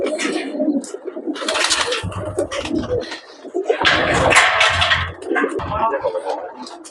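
Racing pigeons at a loft coo in low, throaty bursts, loud and close, while people talk in between the calls.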